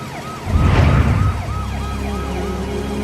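An ambulance siren wails in repeated rising and falling cycles, loud and close amid road traffic, with a deep engine rumble surging briefly near the start.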